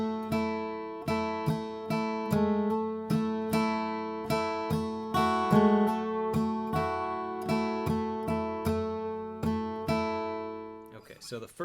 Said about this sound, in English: So that little intro all together will sound like this.